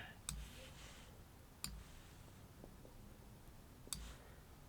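Three soft, isolated computer mouse clicks, spaced irregularly a second or two apart, against faint room noise while assembling a digital Christmas scrapbook page.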